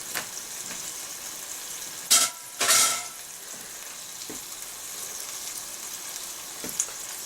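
Vegetable dumplings and garlic fry in oil in a pan, making a low, steady sizzle broken by two short, loud bursts of crackling, stirring or scraping, with a few faint clicks afterward.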